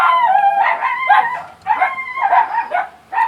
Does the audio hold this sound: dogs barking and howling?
yes